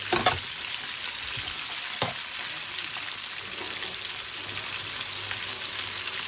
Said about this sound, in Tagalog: Super crispy yung fried chicken po to.